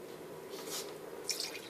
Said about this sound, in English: 1/2 cup of water,